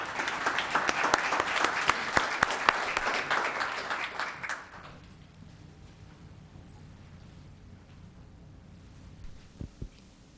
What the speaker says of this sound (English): Please welcome Amber with a round of applause